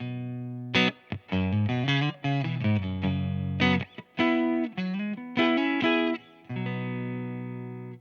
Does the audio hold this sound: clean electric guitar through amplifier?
yes